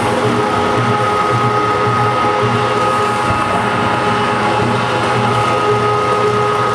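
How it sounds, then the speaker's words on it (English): A meat grinder churns frozen venison and fat, a loud, steady mechanical whirring grind with a constant motor hum and rattling, close and uninterrupted, without speech. "The colder that those fats are when they go through the grinder, the easier they'll go through the grinder."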